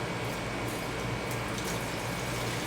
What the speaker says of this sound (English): we're gonna have to pour a little bit of the liquid out